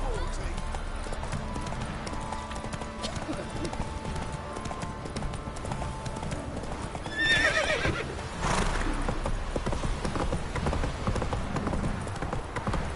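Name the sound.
horse hooves and neighing in The Witcher 3 video game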